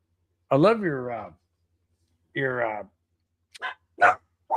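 A dog gives several loud, close barks and yips, spaced by silences, with a few sharp, clipped calls toward the end.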